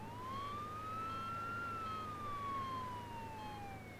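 An ambulance siren wails in a single smooth rising and falling sweep, fairly faint, over a low steady traffic hum, with no voices.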